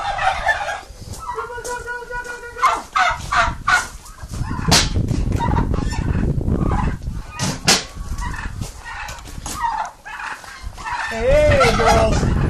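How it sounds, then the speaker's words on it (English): Turkeys on a farm gobbling in repeated bursts, close and loud, mixed with clucking fowl and other birds over a busy outdoor background. "Okay, the turkeys."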